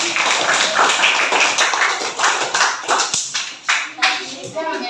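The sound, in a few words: classroom applause for a student group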